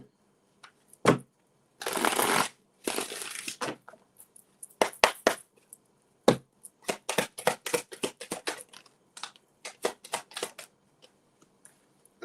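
Tarot cards are shuffled and handled during a reading, giving short crisp riffling bursts followed by scattered light snaps and taps, close and fairly quiet, with no speech.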